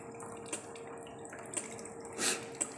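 Water flows down the channel of an Arduino-controlled automatic livestock drinking system, a faint trickle with scattered drips over a steady low motor hum, with no speech.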